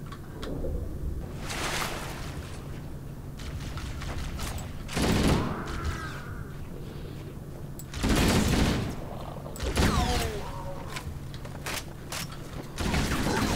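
Sniper rifle and shotgun fire in a co-op session of Halo: Combat Evolved, with several loud, sharp blasts spaced a second or two apart over mechanical creaks and low game ambience.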